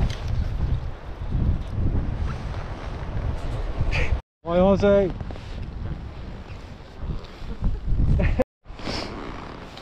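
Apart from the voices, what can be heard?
strong gusty offshore wind at sea on a boat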